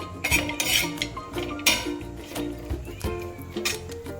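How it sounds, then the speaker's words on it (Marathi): Grated coconut roasting in oil in a pan for a spicy chilapi fish curry, with busy metallic clatter and scraping of a spoon against the pan, close and fairly loud, in uneven bursts. "तेल टाकून खोबरे चांगले लाल होईपर्यंत भाजून घ्यायचे आहे।"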